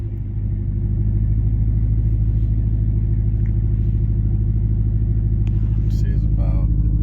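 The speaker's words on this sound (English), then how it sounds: "Let's do a 0-60 with the stock airbox back on." A car with its stock airbox refitted sits at a deep, steady idle with a heavy low rumble from the cabin, and brief faint knocks and a short higher squeak toward the end. No hard acceleration is evident.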